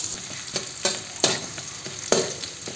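Onions go into a hot frying pan with a steady sizzle, as a spoon stirs and scrapes in several sharp bursts at irregular intervals, close by and with no talking.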